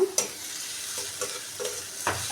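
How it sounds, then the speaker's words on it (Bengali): Onion and garlic fry in a pan until nearly brown for a water spinach (kalmi shak) stir-fry; a soft, even sizzle runs throughout, punctuated by a few sharp spatula scrapes and knocks. "এই যে আমার পেঁয়াজ রসুন প্রায় ব্রাউন কালার হয়ে আসছে"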